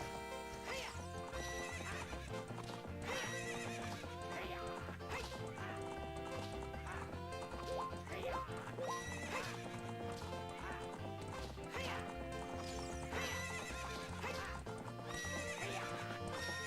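Galloping hooves of a horse in Zelda: Ocarina of Time during a horse race, a quick rhythmic clip-clop with occasional neighs, mixed under loud, busy game music that runs throughout.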